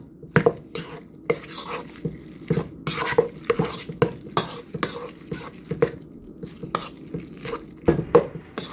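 Yams being chopped for sweet potato pie filling, a run of irregular close knife knocks and utensil clatter against a bowl or board, steady light taps with brief pauses, no talk.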